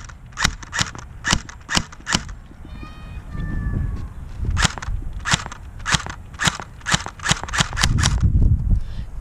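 A UK Arms AK-47 airsoft gun fires a series of sharp, evenly spaced cracking shots, close by, with a brief pause in the middle and a scattered burst near the end.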